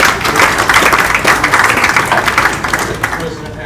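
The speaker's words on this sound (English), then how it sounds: "Let's give them a warm round of applause." A meeting audience gives a warm, sustained round of applause, dense overlapping clapping that holds steady for several seconds before thinning slightly at the end, with some voices mixed in.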